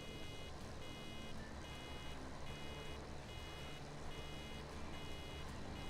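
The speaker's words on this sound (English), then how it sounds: "Yes, the annoying beeping is still there." A farm vehicle reversing in Farming Simulator 17 gives off a faint, regular electronic beep that repeats about once a second over a steady low engine drone, with no talking.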